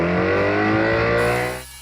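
A small 1960s hover scooter engine revs hard to about 5,000 rpm with a rising whine, loud and close, then drops off and fades near the end.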